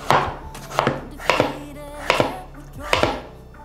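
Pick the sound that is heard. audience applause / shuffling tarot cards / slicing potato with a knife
slicing potato with a knife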